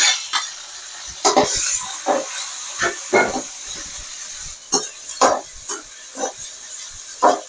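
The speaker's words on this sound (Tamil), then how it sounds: "வெங்காயம் நல்லா வதங்கிட்டு இப்போ நம்ம தக்காளி போட்டுக்கலாம்" Tomatoes drop onto sautéed onions for vallarai keerai soup, bringing a loud steamy hiss with repeated bursts of sizzling and stirring scrapes, close and without speech.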